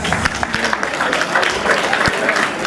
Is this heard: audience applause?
yes